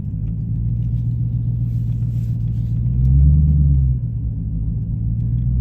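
A Dodge SRT rumbles steadily at close range during a cruise night at an A&W Root Beer stand on Route 44. The low, throbbing engine note swells louder near the end as the car pulls in, with no talking over it.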